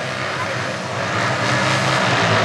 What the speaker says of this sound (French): Les moteurs chauffent.